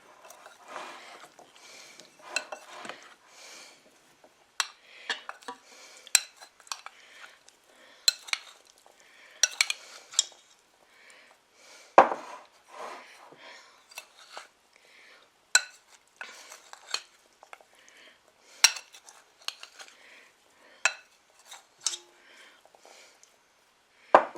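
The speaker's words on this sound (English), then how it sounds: "Now I'm going to get a spoon for the blueberries here. And just toss them in this flour." A spoon clinks and scrapes against a bowl while tossing blueberries through flour for Jordan Marsh blueberry muffins, in sparse irregular taps and soft rustles with quiet pauses between.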